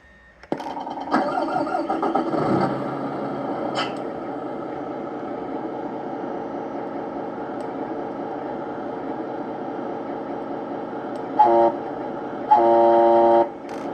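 A Tamiya Scania 770S RC truck's GT Power Euro sound system cranks and starts a simulated diesel engine that idles steadily, then sounds two loud horn blasts near the end, electronic and close.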